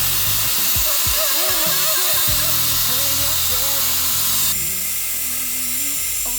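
A Dyson Airwrap hair styler blows air in a loud, continuous whoosh while drying hair, its pitch wavering and then shifting lower midway, with someone talking over it.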